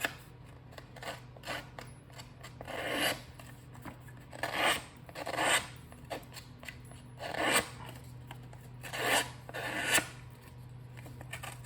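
Scissor blades scraped along card edges to distress them in papercraft, giving a series of soft, evenly spaced rasping strokes, close and quiet, with no talk.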